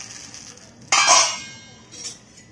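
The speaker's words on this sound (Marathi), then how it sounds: "10 मिनिट झालेत, झाकण काढूयात।" A metal lid lifted off a cooking pan of chillies simmering on a low gas flame, giving a sharp clink followed by a fading ring and a softer clatter a moment later.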